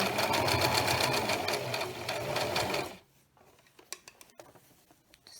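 Home sewing machine stitching cloth and elastic for a face mask, a steady fast whirring run for about three seconds that stops abruptly, followed by faint clicks and handling sounds.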